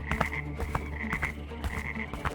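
A chorus of frogs croaks, with repeated close, rhythmic croaks over a dense background of further frog calls, steady and moderately loud with no talking.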